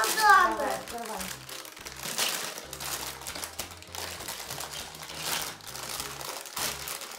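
A plastic bag of Lego Duplo train bricks is torn open, giving crinkly plastic rustling and faint clicks of bricks, close and fairly loud at first, while an adult and someone talk over it.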